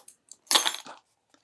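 Keys jingling as they are pulled from a camera bag, a single short metallic rattle and clink, close and clear, with near silence around it.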